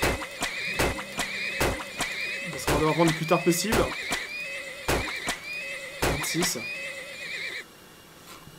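Horses in the Turmoil video game whinny repeatedly alongside clip-clopping hooves, sharp neighs recurring every second or so while someone talks in French over them.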